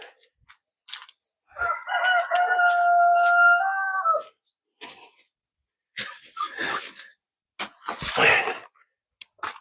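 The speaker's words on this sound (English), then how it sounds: "I hear a rooster in the woods over there." A rooster crows once in a long drawn-out call, followed by scattered rustling and other brief noises outdoors.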